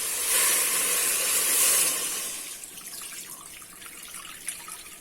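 Water pours steadily into a pot of beef nihari with a hissing rush that eases into softer splashes and trickles, heard alone.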